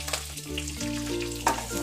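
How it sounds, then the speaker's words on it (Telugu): Curry leaves and ginger pieces sizzle steadily in hot oil for coconut rice, with a bright crackle from start to finish and a sharper spitting burst near the end. "ఇవన్నిటిని బాగా తిప్పుకొని వేగనివ్వాలి"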